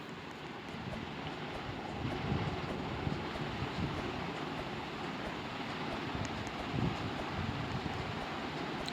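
Wind rushing through a Roblox game, a continuous broad low roar that swells a little at times, steady and moderately soft, with no speech over it.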